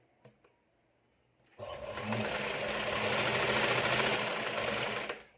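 A sewing machine stitches a tuck into the fabric of a katori blouse, starting after a couple of faint clicks and then running steadily and loudly for several seconds before stopping.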